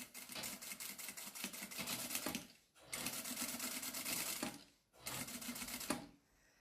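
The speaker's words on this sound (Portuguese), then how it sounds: "vamos aqui costurar bastantes camadas de material" A sewing machine stitches through many thick layers of material for a toiletry bag, running in three fast rattling bursts with brief stops between, close and loud, no talk.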